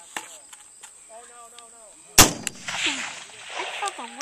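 A single sharp precision rifle shot cracks loudly at a long-range steel target range, followed by faint ringing and outdoor ambience, with birdsong before it and voices afterward.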